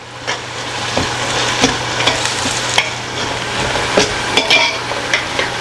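Onions fry in hot oil and ghee for chicken dum biryani, a steady crackling sizzle with repeated sharp scrapes and taps of a spoon stirring the pan, close and fairly loud, no voices.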